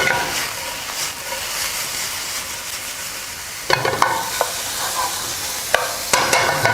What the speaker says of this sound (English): Okay, the chicken's close to being done. I'm going to add in the wild chicken mushrooms.